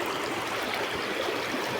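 Water from a stream flows with a steady broadband rush, continuous and close, with no voices.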